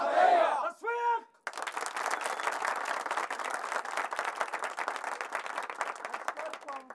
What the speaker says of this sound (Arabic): تصفيق